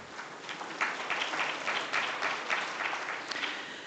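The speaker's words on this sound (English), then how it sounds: "Let's give them again a warm round of applause." Audience applause at an Omani-Indian business forum, steady sustained clapping from a sizable crowd throughout, fairly even in loudness with no voices over it.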